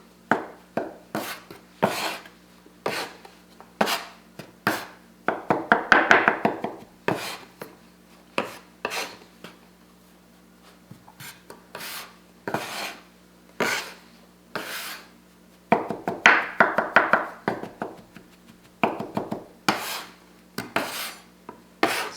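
Sourdough starter being worked into flour by hand or spoon in a bowl until dry and crumbly, heard as repeated close scraping and rubbing strokes in bursts, with occasional denser rustling passages and short pauses, no talking.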